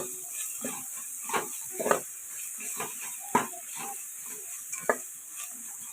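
Ingredients for Telangana-style bagara rice fry in a pan under a constant faint hiss, while a spoon stirs and scrapes in irregular soft knocks, close and quiet.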